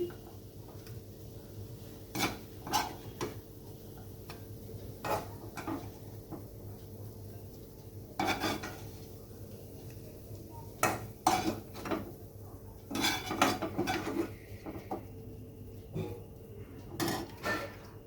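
Mashed banana flower paste being scooped out of a pan after the gas is turned off, heard as a series of sharp utensil clinks and scrapes against metal with quiet pauses between.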